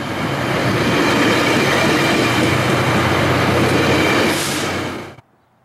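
UTA FrontRunner commuter train rolling on its dedicated tracks near Salt Lake City, a loud, steady rumble and roar with wheel noise and a brief high squeal, ending abruptly.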